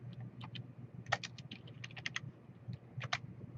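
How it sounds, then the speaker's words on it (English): Typing on a computer keyboard comes through quietly as irregular bursts of crisp key clicks, close up, with no one talking. "type in your text"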